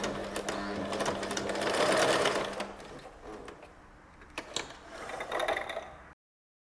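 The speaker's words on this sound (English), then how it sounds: "sew all around and stop at the tip" A sewing machine stitching a drop-waist Basque skirt, whirring steadily at close range with a fast mechanical rattle, then slowing into short bursts with pauses before stopping abruptly.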